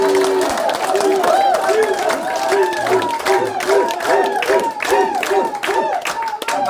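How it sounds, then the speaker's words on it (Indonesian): A community crowd claps together amid a lively mix of voices, with dense patter of hands and chatter running steadily throughout at close range. "Jadi mari kita tepuk tangan untuk masyarakat."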